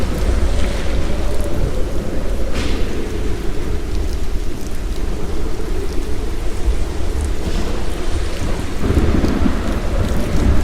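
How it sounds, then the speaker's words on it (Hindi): Heavy rain pours down with rolling thunder in a storm, a dense, loud, continuous wash of rain over deep rumbles that swell and fade, with no voices. "बारिश बहुत तेज होती है, सब जगह काले काले बादल छा जाते हैं।"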